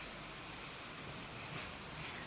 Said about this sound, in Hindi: और बारिश भी चल रही